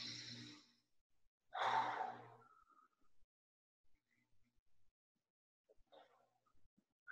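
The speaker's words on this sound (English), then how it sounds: "Just get some nice breaths in there." Two slow, audible exhales like relaxed sighs, the second louder, followed by long near-silence with only faint soft breaths.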